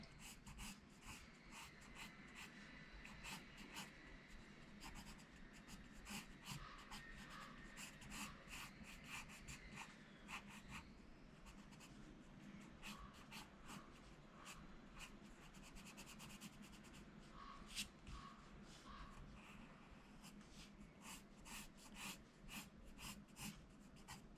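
A heliotrope color pencil drawing on paper makes a quiet, continuous scratchy rubbing, with rapid short strokes and light taps throughout and no voices.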